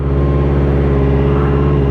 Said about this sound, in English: I'm releasing the clutch, and I'm also, if you can see the engine, I'm also revving up